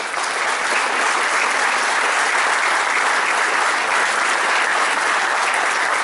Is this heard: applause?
yes